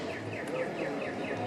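An Ecuadorian pedestrian crossing signal chirps in a steady series of falling electronic tweets, roughly six in a row, over constant street noise.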